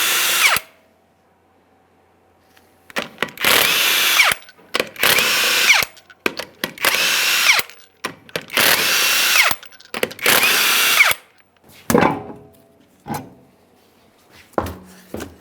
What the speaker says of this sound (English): To remove the wheel, you want to remove all 6 of your 21mm lug nuts